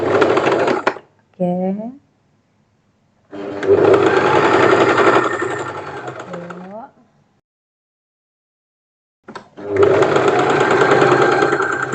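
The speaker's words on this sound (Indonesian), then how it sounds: "Tiwi udah mulai menjahit." A sewing machine stitches fabric for a modern syari dress, whirring steadily close by in three separate runs with short pauses between them. Someone speaks briefly between the runs.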